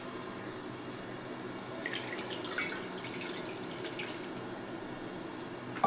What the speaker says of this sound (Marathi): यात थोडं पाणी घालते.